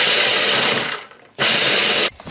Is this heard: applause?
no